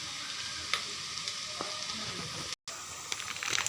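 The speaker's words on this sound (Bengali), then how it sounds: "আমার পেঁয়াজটা ভাজা ভাজা হয়ে গেছে" Chopped onions fry in oil with turmeric, chili powder and chicken masala for a chicken curry, giving a steady close sizzle with small stirring clicks, broken by a moment of silence near the end.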